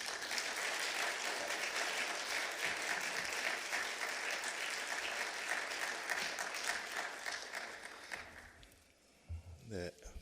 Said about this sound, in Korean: 우리 목사님 큰 박수로 환영하시겠습니다.